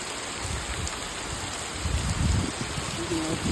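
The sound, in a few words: heavy rain pouring at the Jersey shore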